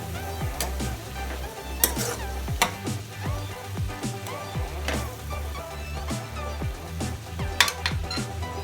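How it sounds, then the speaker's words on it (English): Tomatoes sautéing in a pan for tomato thokku, a soft sizzle under repeated rhythmic clinks and scrapes of a spoon stirring against the pan, close by and without talk. "After adding tomatoes, saute this once again."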